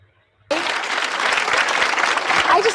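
A studio audience on a TV talk show breaks into loud, sustained clapping that starts abruptly after a short silence and continues steadily to the end.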